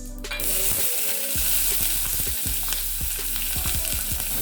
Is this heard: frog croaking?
no